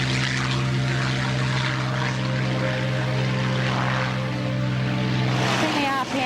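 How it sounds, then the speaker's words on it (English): A Supermarine Spitfire's piston aircraft engine roars steadily during takeoff, loud and close, holding a sustained droning tone with propeller buzz throughout. "Sensation in getting a Spitfire airborne, even in later years, was always quite a thrill"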